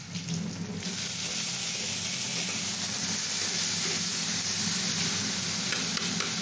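Ground turmeric, cumin, chili and coriander fry in a pan with vegetarian potol dorma, making a steady close sizzle with a faint scraping stir throughout and no talk.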